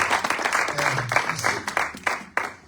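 A church congregation applauding steadily throughout, dense clapping with a few sharper claps toward the end, with voices mixed in beneath it.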